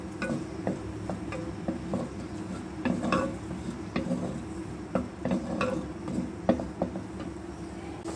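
Ginger-garlic paste and onions fry in a handi with a soft continuous sizzle, broken by repeated light scrapes and taps of a spoon against the pot.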